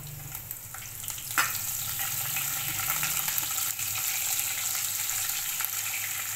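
Steady, crackling sizzle of chopped green chillies and garlic frying in hot oil, with a few clinks of stirring, close and continuous.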